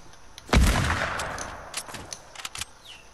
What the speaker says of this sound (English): He's shooting me with a crossbow